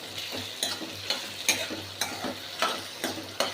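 Okra fries in a pan over a full flame while a utensil stirs it in an even rhythm, each scrape rising over a soft background sizzle, close and fairly quiet, with no talking.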